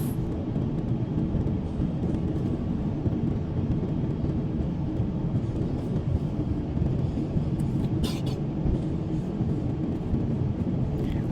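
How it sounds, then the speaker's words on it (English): Singapore Airlines Airbus A350-900 taxiing to the runway at Los Angeles Airport, a steady low cabin rumble with engine drone heard from inside, continuous and even, with a faint clunk near the end. "relax as the plane taxi to the runway for takeoff"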